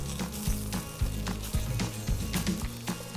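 Chicken saltimbocca wrapped in prosciutto fries in a hot skillet on medium-high heat, giving a steady loud sizzle broken by clattering knocks and scrapes of the pan.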